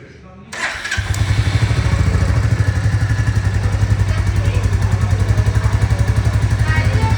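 A Royal Enfield Classic 350 motorcycle starts and settles into idle, its exhaust giving a loud, close, steady thumping beat after a short quiet lead-in.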